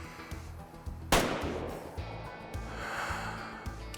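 A single sharp rifle shot at a buck in the hunting video game Way of the Hunter 2, a loud crack with a short decaying tail over steady low game ambience.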